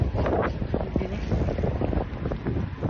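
Steady, roaring wind buffets the microphone continuously, a broad rushing noise with gusty swells and no talking.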